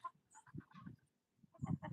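Chickens cluck in short, close bursts, a few soft clucks, a brief pause, then another busier cluster of clucking.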